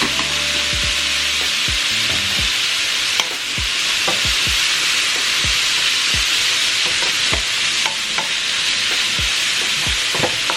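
Onions sautéing in a pan with Goya Sazonador Total seasoning, a loud steady sizzle close up with repeated scraping knocks of a spoon stirring at an irregular pace, no voices.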